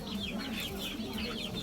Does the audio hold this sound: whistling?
no